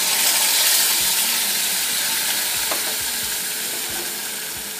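Fish frying in a pan with spices just added, sizzling loudly and steadily with a dense hiss, a few soft stirring knocks underneath, no voices.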